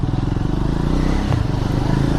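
A motorcycle engine thrums loud and close with a fast, even pulsing exhaust note while riding down a narrow two-lane alleyway.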